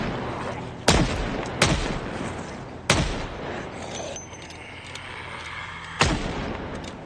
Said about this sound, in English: I'm just gonna shoot these guys.